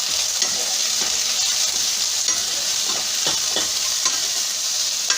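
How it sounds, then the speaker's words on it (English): Onions with ginger garlic paste fry in a pan with a steady sizzle, while a utensil scrapes and stirs now and then close up, with no voices. "You need to cook these onions till they changes their color."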